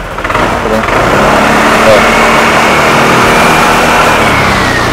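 A Yamaha NMAX scooter with a starting problem is revved with its throttle, the engine rising from a low idle into a loud, sustained mid-pitched roar that holds close and steady to the end.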